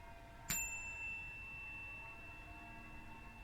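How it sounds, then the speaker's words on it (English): Single bell struck once during a guided meditation, a sharp strike followed by a clear ringing tone that decays slowly over a quiet background, no voices. "I'm going to chime my bell."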